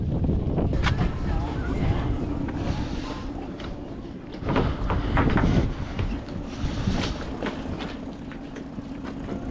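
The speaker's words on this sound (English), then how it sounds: "the wind's blowing us on" Steady wind buffeting the microphone aboard a trimaran while docking, a continuous low roar with occasional louder gusts and scattered knocks from the boat.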